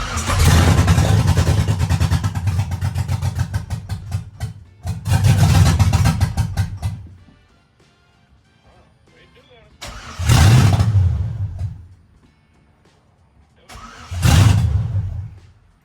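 LS-swapped truck engine cranks and fires up, running loud and rough for several seconds before cutting out, then two more short crank-and-catch bursts follow, each dying off quickly, with quiet gaps between and people talking nearby.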